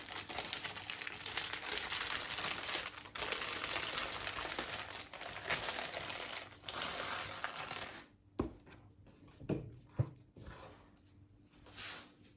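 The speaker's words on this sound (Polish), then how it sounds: "Czyli odwracamy sobie i ściągamy papier." Baking paper peeled off a baked meringue cake layer, a long continuous crinkling and tearing rustle followed by a few short, sharp crackles and pauses, close by.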